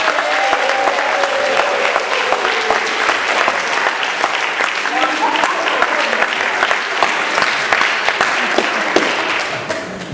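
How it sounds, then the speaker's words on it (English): A large audience at a live comedy show claps steadily and enthusiastically for about ten seconds, with a few faint cheers mixed into the dense applause. "Give him a big round of applause"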